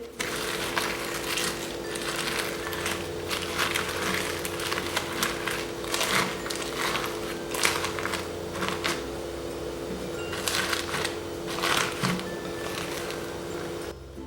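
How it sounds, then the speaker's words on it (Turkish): Slime studded with pencil shavings is squished and worked by hand, giving repeated crinkly, crackling squelches in bursts over a steady background hum. "Bu ses slime'a yapışmış kalem artıklarının sesi."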